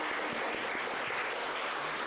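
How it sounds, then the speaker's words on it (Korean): A church congregation at a Sunday worship service in San Diego claps to welcome three visitors, a dense, steady wash of applause filling the room for about two seconds, with no voices over it. "혹시 세 분 일어나 주시면 박수로 환영하겠습니다."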